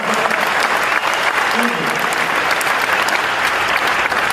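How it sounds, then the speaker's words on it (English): A large live seminar crowd claps loudly and continuously, a thick, even wash of hands from near and far, while someone says a brief word of thanks over the ovation. "Thank you for the applause"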